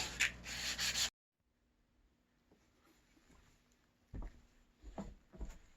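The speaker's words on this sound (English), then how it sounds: "And the sanding block's actually really good for that." Rough rubbing strokes of a sanding block along wooden edges, a few short scrapes near the end after a quiet stretch, with a brief burst of noise at the start.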